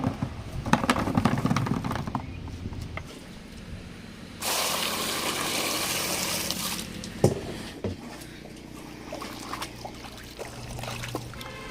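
Water poured over tree-ripened mangoes to wash them before juicing, a steady gushing pour lasting a few seconds amid lighter splashing and handling clatter.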